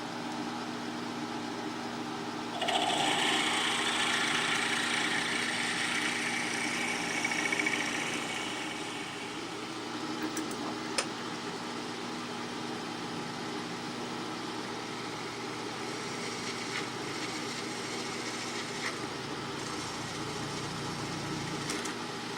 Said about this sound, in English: Now we're going to drill through both bearings .